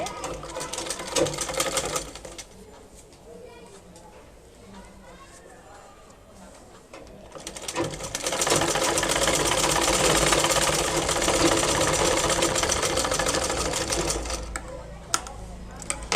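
A sewing machine stitches khimar hijab fabric in two bursts of steady, rapid whirring clatter, a short run first and then a longer loud one, with a person talking in the pause between.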